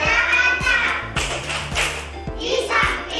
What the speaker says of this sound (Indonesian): saya mengajak anak untuk bermain tepuk